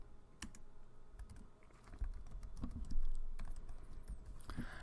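Keys on a computer keyboard tapped in short, irregular clusters, soft and close, with brief pauses between bursts of keystrokes.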